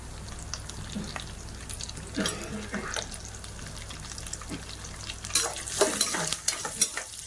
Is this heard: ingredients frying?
yes